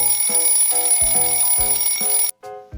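An alarm clock rings loud and close in a Toca Boca game, a repeating electronic beeping melody that plays steadily for about two seconds before cutting off abruptly, with a short tail afterward.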